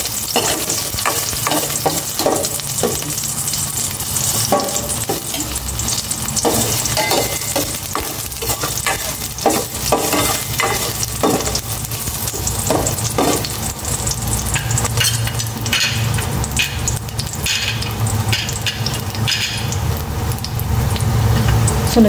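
Garlic sautés in cooking oil with a loud, close, continuous sizzle, while a utensil stirs and scrapes the pan in frequent irregular strokes throughout.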